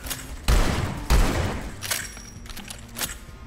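Two heavy shotgun blasts from Hard Bullet VR, a virtual reality shooter, boom out close and loud about half a second apart, each followed by a lingering rumbling tail and a few fainter clicks and thumps.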